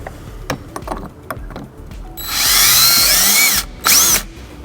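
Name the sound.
power drill drilling holes in vehicle underbody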